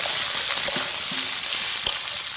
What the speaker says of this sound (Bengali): বিনস গ্রিন পিস সবুজ মটর দিয়ে ভেজে নেব